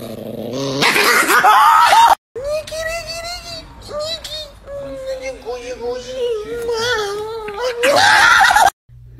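An angry Chihuahua growls and yips close up after being kissed on the head, its rumbling, whiny growl rising and falling. Short loud bursts of noise open and close it.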